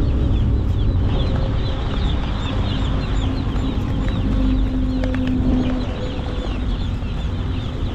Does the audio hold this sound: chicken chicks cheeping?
yes